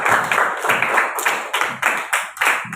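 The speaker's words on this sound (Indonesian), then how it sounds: "Sekali lagi beri tepuk tangan kepada beliau." A small crowd claps steadily after a song performed in a school class film about the Youth Pledge, with brisk, close hand claps in a fairly even rhythm and no voices.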